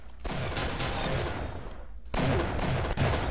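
Gunshots in a shooter video game, dense loud bursts of firing with a brief lull before another heavy volley, close and continuous.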